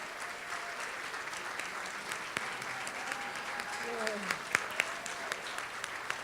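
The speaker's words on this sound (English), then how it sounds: "Let's give him a round of applause." An awards ceremony audience applauds recipient Jeff with a moderate, sustained round of clapping. Scattered sharper claps stand out near the end and voices murmur underneath.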